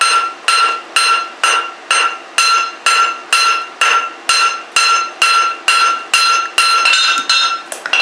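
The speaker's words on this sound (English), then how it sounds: "I've switched over to a different hammer here. This is the cross peen hammer." A cross peen hammer strikes hot metal in a steady, rapid rhythm, each blow a loud, ringing clang, about two per second, close and unbroken by speech.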